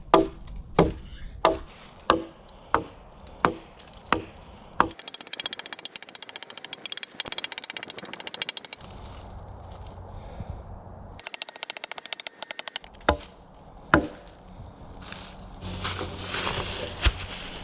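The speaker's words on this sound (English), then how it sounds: "Couple of logs chopped up." Logs are chopped by hand outdoors at a campsite, a run of about eight sharp, evenly spaced axe strikes followed by rougher crunching and scraping, then a few more hits.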